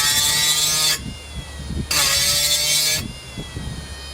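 A Makita 40V cordless die grinder runs under load, a loud high-pitched grinding whine that comes in two sustained bursts with lower motor hum and rattling between them, close by and without speech.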